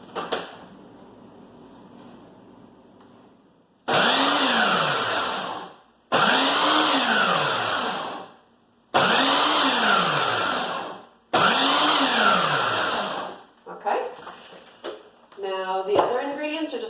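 Food processor pulsing drained chickpeas in four loud, steady bursts of motor whir, each a couple of seconds long with short pauses between, after a quieter stretch at the start and some lighter clatter at the end.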